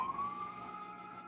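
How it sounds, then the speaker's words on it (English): A passing fire truck siren, a single sustained wailing tone heard from outside at moderate distance, steady and fading slightly with no talk over it. "the fire thingy went by"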